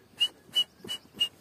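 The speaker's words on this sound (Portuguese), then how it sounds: "Que passarinho é esse que tá cantando ali, ó?" Four short, high chirping notes, evenly spaced and fairly faint, like a small bird calling outdoors against quiet background noise.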